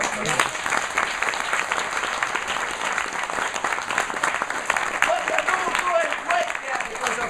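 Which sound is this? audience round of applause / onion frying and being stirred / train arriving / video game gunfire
audience round of applause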